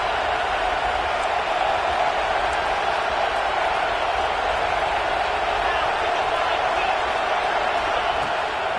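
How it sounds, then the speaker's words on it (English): A stadium crowd at a college football game roars in a dense, continuous wall of sound that holds steady throughout, loud and enveloping, with no break in the noise. "this crowd is at fever pitch"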